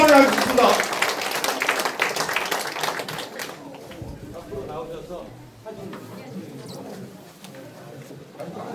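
An audience at a Korean committee launch ceremony claps loudly at first, and the applause fades after a few seconds as talking and murmuring voices take over.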